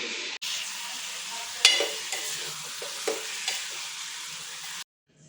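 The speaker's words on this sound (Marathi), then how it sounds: "आता त्याला स्लो गॅसवर मिक्स करते मी" A mango pulp mixture for modak is stirred in a pan over a low gas flame, with a soft steady sizzle and a few scraping knocks of the spoon before it cuts off near the end.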